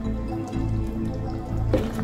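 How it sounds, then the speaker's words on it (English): Water is added to a simmering pot of South African Durban mutton curry with potatoes, giving close, steady dripping and squishy liquid sounds over a low cooking hum, with no talking. "I'm going to add a little bit of water."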